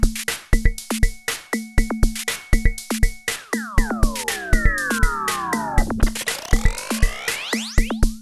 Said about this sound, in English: What you just heard there was me changing the pitch of the delay.